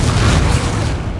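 A Confringo spell blast in the video game Hogwarts Legacy lands as a loud, dense boom that fills the whole moment and fades only slightly, with no clear speech over it.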